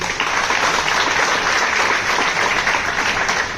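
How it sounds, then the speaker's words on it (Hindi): A large seminar crowd in Agra claps loudly and steadily, a dense continuous wash of many hands filling the room without a break or any voice over it. "तो एक बार जोरदार आगरा वाले अपने लिए ताली मार के"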